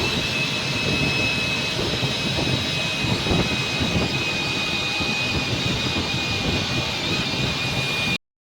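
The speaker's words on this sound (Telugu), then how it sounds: "ఆ ఇంజన్ చప్పుడు అండి ఎట్టొస్తుందో" A Volvo multi-axle bus engine roars steadily and loudly up close, a constant rumbling drone that cuts off abruptly at the end.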